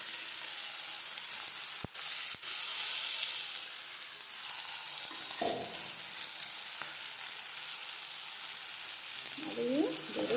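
Bitter gourd and tomato sautéing in a pan for pavakkai poriyal, a steady low sizzle running throughout with a couple of sharp utensil knocks and some stirring scrapes near the end.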